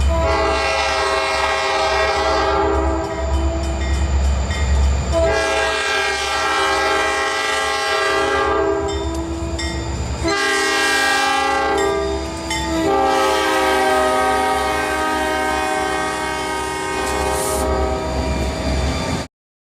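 A loud, multi-chime horn on a GP40-2 diesel locomotive blows in long sustained blasts, with brief gaps between them, over a low rumbling engine.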